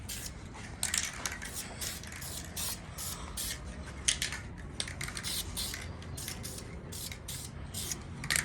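A light first coat of spray paint hisses steadily onto a B20 valve cover in short repeated bursts, close and continuous, with faint clicks between passes.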